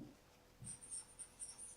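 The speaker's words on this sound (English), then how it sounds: "So I am writing here matrix multiplications" Handwriting during a maths lecture, faint scratchy strokes of a pen or marker in quick short bursts, close and quiet with no talking over it.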